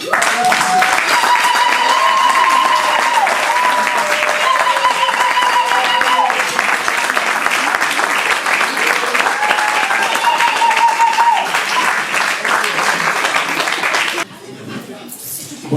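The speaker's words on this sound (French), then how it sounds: "On appelle et on applaudit le pasteur Séraphin" A large congregation applauds at a church anniversary celebration, sustained loud clapping with voices and music mixed in, cutting off abruptly near the end.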